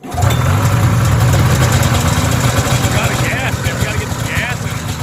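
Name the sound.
Polaris 340 snowmobile engine running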